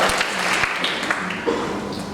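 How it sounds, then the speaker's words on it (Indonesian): Church congregation at an Ascension Day service of GBI BTC Rayon 18 clapping for God, a short burst of dense, roomy applause with a few sharper individual claps standing out. "Berikan tepuk tangan buat Tuhan."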